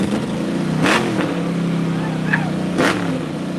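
Speed UTV El Diablo pro side-by-side racing in the NORRA Baja off-road rally, its engine droning loudly and steadily with a sticking throttle, with brief surges in revs and a voice faintly underneath.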